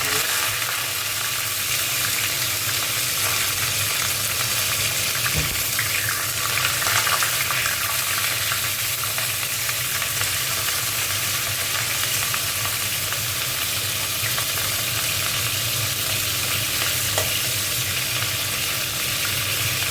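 Cauliflower frying in hot oil in a pan, a close, continuous hissing sizzle that holds steady throughout with faint occasional clicks and no talking.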